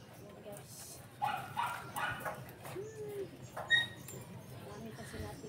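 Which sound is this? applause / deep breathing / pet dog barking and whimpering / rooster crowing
pet dog barking and whimpering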